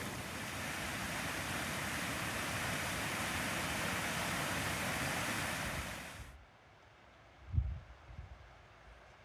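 Steady, close rush of trickling water from a small stream along the Pacific Crest Trail fills the first six seconds, then cuts off abruptly, leaving a quiet stretch broken by a soft thump.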